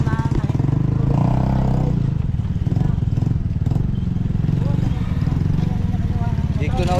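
A motorcycle engine runs with a close, steady putter throughout, under people talking.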